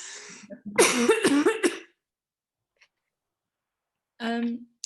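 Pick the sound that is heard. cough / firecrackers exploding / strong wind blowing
cough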